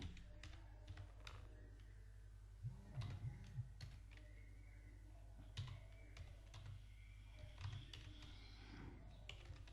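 Fast, irregular clicking of computer keys as a movie name is typed into a search box, quiet and close, with a steady low hum underneath and no talking.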